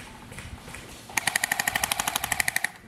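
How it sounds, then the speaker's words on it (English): Rapid automatic gunfire in a multiplayer shooter video game, a steady burst of sharp evenly spaced shots starting partway through and continuing to the end, loud and close over a low background rumble. "He's firing on me."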